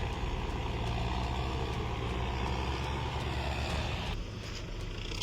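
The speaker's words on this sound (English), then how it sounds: "with support from a similar tractor, they use all their power to pull the machine out" New Holland tractors straining to pull a mud-submerged New Holland 6640 fitted with a 4-disc plow, heard as a loud, steady diesel engine drone with heavy low rumble that drops slightly near the end.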